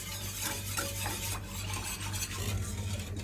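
A spoon scrapes and stirs around a pot of heating milk with flour, sugar and cocoa for pudding, a steady rasping swirl that carries on without pause.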